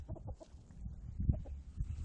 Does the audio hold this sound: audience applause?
no